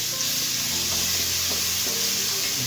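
Ginger garlic paste fries in a pan for beef curry with a loud, continuous sizzle, while soft scraping and stirring sounds recur throughout.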